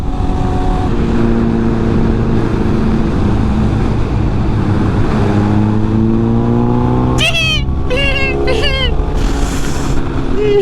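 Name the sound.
loud motorcycle engine revving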